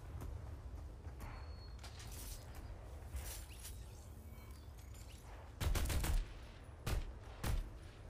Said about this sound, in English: So the machine gun.